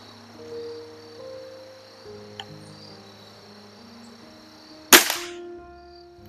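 A Webley air rifle fires a diabolo pellet, one sharp loud crack near the end with a brief ringing tail, standing out over a quiet outdoor background with insect-like chirps.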